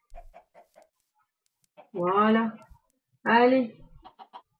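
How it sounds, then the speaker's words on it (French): Minecraft chickens give short, quick clucks at the start and end, while someone speaks briefly in between. "Invasion de poule."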